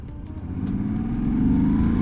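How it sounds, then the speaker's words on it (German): A 2024 Moto Guzzi V85 TT motorcycle engine pulls up through the revs, its throbbing exhaust note steadily rising in pitch and loudness, close and unaccompanied by talk. "Und jetzt machen wir mal ein paar Fahrtests, um zu sehen, was der neue Motor kann."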